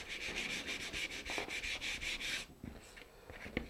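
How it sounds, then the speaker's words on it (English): Sandpaper worked over balsa tail feathers of a Cirrus Breeze rocket glider, a rapid run of rhythmic rasping strokes close up, then quieter scattered rubs and handling noises. "I just want to sand this down just to make it a little bit smoother"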